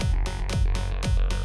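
Attack sound effect from a rhythm-based boss-battle video game: a series of punchy, evenly spaced descending hits repeating about every quarter second over a dense musical backdrop.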